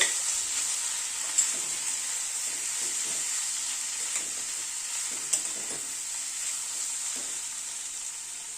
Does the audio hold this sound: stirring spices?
yes